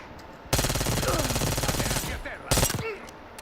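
Rapid automatic gunfire rattles through a video game shootout, a loud sustained burst followed by a second sharp volley, with a voice speaking briefly in between.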